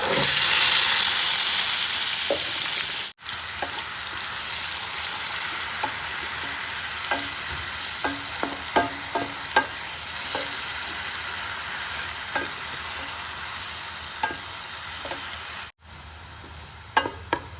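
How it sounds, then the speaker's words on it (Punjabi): Blended masala frying with curry leaves and whole coriander in a pan: a loud, continuous sizzle with scattered crackles and pops, cut by two short drop-outs, with no talking. "ਹੁਣ ਆਪਾਂ ਇਹਦੇ ਵਿੱਚ ਜਿਹੜਾ ਬਲੈਂਡਰ ਕੀਤਾ ਹੈ ਮਸਾਲਾ ਪਾ ਦਾਂਗੇ"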